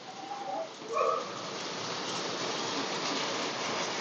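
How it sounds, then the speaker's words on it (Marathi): Rain falls outdoors in Hadapsar, Pune, as a steady, even hiss that fills the clip, with a few faint bird calls early on and no voices. "पण आत्ताच पाऊस सुरू झालेला आहे."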